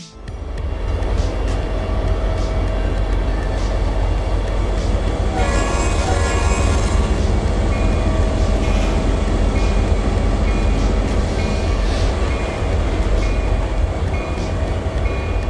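A Norfolk Southern train rolling in the Trainz railroad simulator, a loud steady rumble of wheels and cars running continuously, with a brief horn-like tone partway through.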